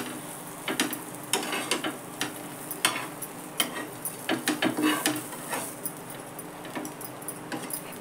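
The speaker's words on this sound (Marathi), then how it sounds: "सगळे पाव असे भाजून घ्यायचे." Pav bread rolls toasting in butter in a pan, heard as a soft continuous sizzle broken by clusters of sharp scraping and clinking taps, close and fairly quiet.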